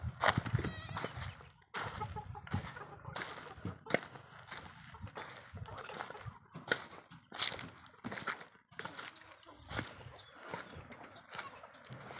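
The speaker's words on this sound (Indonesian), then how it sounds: "kambing kita Kok di sini?" Goats bleat repeatedly in short, irregular calls, some close and loud, others fainter, spread across the whole stretch with scattered rustling and no clear talk between them.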